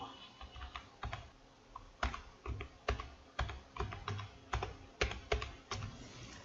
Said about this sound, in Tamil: இதில் ஷீட் ப்ரொடெக்ஷன்னு டைப் பண்ணுறேன்.